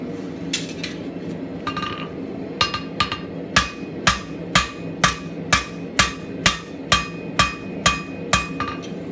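A hammer forges a taper on hot metal while a campfire tool stand is made, striking in a steady run of sharp ringing blows that start sparse, then settle into a regular rhythm, loud and close with no talk.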